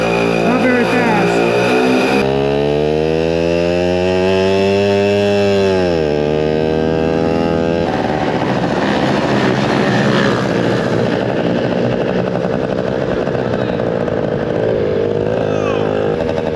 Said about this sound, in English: my two-stroke shaft drive, monoshock, single-sided swing arm super bike